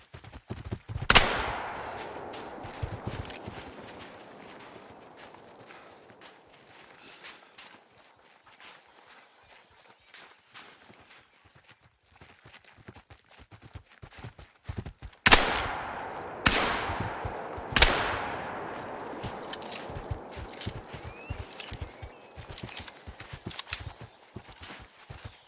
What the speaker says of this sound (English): Let's work on the shotgun.